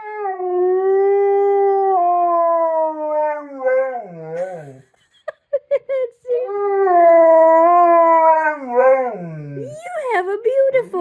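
A dog howls long and loud after a squeaky toy, rising and falling in sustained wavering notes, breaking briefly into short yips before howling again.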